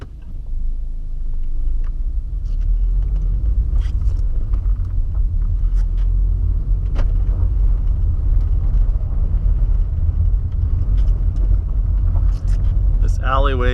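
A VW Jetta in for head gasket work rumbles steadily in a rough alleyway, with a loud, continuous low engine drone and faint rattles throughout.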